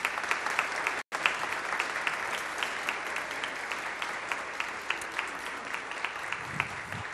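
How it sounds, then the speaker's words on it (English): Congregation applause during a Trinity United Church service in PEI, steady moderate clapping filling the room, briefly cut off near the start and then continuing evenly. "round of applause as well?"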